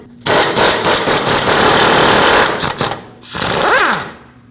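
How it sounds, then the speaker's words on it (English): An impact wrench with a 22mm socket hammers loose the mounting nut on the inner tie rod of a 2005-2021 Nissan Frontier, a loud rapid rattling burst lasting about three seconds, then a brief second burst. "use my impact to get the nut over that"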